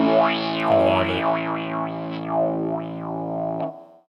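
A Stone Deaf Effects PDF-1X parametric distortion filter pedal on guitar, playing distorted notes with the filter sweeping up and down in repeated wah-like arcs, loud and steady for about four seconds before cutting off.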